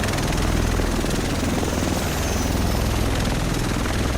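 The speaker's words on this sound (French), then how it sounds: "Le reste de l'équipe devrait être dans cet hélico" Helicopter in The Division video game, a loud, continuous rhythmic rotor chop with engine whine, close and steady throughout with no pause.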